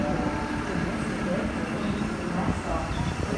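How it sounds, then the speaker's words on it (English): A Sydney Trains electric train at Campbelltown station gives a steady, loud rumble and rolling hum at the platform. There is no clear clatter or talk over the continuous noise. "The next train to arrive on platform 2 goes to the airport."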